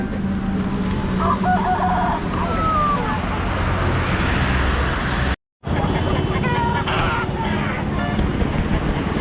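Country chickens and roosters at a Nellore poultry market crow and cluck repeatedly in a busy, noisy setting, with traffic rumble and people talking underneath and a brief dropout partway through.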